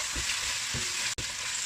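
Pork belly fries in a pan with a loud, steady sizzle while it is stirred, and a few soft scraping strokes of a spoon cut through the hiss, with no voices.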